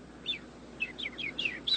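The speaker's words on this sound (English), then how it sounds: "I'm afraid we humans can't speak the language of birds." Small bird chirping in short, high tweets, starting singly then coming in a quicker run of repeated calls near the end, fairly close against a quiet background.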